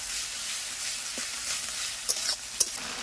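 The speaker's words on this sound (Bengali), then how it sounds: "তো সব কিছু ভালো করে আমি কষিয়ে নিচ্ছি, ভালো করে কষে নিতে হবে।" Chicken sautéing with spice masala in a pan gives a steady, close sizzle, with a few sharper scraping clicks from stirring near the end and no talk.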